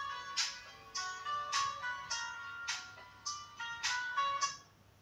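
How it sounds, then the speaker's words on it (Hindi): A mobile phone ringtone rings indoors in a steady repeating pattern of bright tonal bursts, about eight in five seconds, clear and moderately loud, with no talking over it. "बार बार आपका फोन आ रहा है।"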